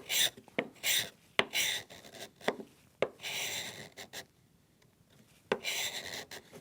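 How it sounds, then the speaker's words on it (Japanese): An old plane blade, used as a scraper, rasps across the sole of a small Japanese wooden plane. Quiet, close scraping strokes repeat in short bursts with pauses between them. "こういうスクレーパー、これ古いカンナの刃ですねを当てて"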